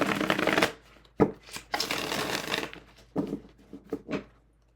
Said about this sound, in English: you really can shuffle this so easily